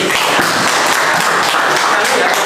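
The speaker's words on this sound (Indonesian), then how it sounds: "Kita berikan tepuk tangan untuk Febri." A classroom of students gives a dense, steady round of applause, close and loud, with voices mixed in.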